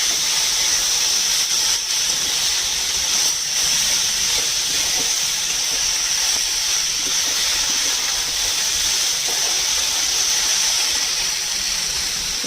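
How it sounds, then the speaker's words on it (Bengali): Sliced banana stem frying in a pan, a continuous even sizzle with a bright hiss, steady and close throughout with no voices over it. "একটু ভেজে নেব।"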